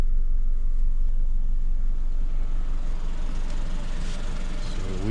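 A 2017 Jeep Renegade engine runs at operating temperature, a steady low rumbling idle heard up close and continuous throughout, with faint higher shop noise toward the end.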